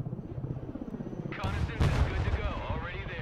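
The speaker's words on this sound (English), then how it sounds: "The Osprey is in the air." Osprey tiltrotor aircraft flying in the real-time strategy game Broken Arrow, a loud rotor and engine roar that swells midway and holds steady, with rumbling battle noise around it.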